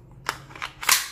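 Three sharp shots from a WE Sig Sauer P226 stainless gas airsoft pistol, each a loud crack with a short tail, the last one strongest, fired at close range with no talking.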